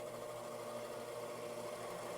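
A gouge cuts into the side grain of a Koa wood bowl held in a vacuum chuck on a lathe, a steady even whirring hum of the spinning piece with a continuous faint cutting hiss.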